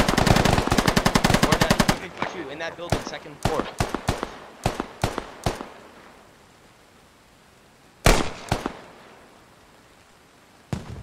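Automatic rifle fire in the military video game Squad: a fast, loud unbroken burst opens, then separate sharp single shots ring out at irregular intervals, with one heavy crack near the end.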